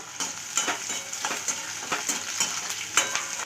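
Small onions, garlic and curry leaves frying in a pan for a kara kuzhambu, with a soft sizzle under rhythmic scraping strokes of a spatula, close and steady, no voices.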